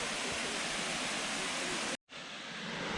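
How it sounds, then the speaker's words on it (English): Overflow water from a lake at Sherborne Castle gardens in Dorset gushes into a stream with a loud, steady, broadband roar close by. It breaks off in a brief cut to silence, then resumes slightly softer. "here's the source of the sound of running water"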